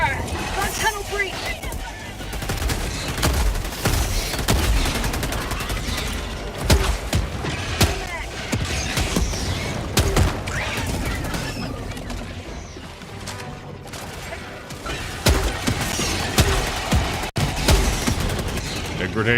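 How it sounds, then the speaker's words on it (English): Dense game combat in a bug-infested tunnel: repeated grenade launcher blasts and gunfire layered with mechanical clatter and chaotic effects, loud and continuous throughout. "A grenade launcher just works so much better against these assholes."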